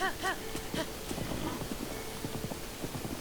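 A horse's hooves clip-clop in Zelda: Breath of the Wild at a steady walking gait, following a few short bright tones at the start, all over low game ambience.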